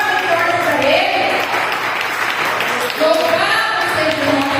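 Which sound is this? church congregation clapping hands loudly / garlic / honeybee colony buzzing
church congregation clapping hands loudly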